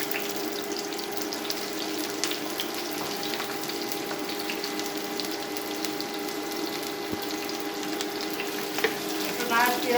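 Onions frying in white cooking oil in a pan, a steady continuous sizzle with faint scraping and clatter, moderately close and even throughout.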